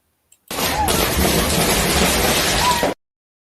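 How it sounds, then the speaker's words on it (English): A fireworks display in Melaque, Mexico, played back from a recording, comes through as a loud, dense burst of crackling and rumbling that lasts a couple of seconds and then cuts off abruptly. "Melaque fireworks"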